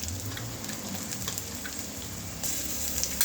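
Green peas sizzling in a pan of oil for poha as turmeric goes in, a steady close frying crackle with light stirring and no voices.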